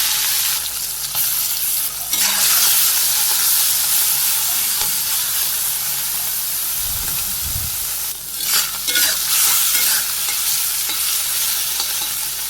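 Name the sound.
small marinated fish frying in hot oil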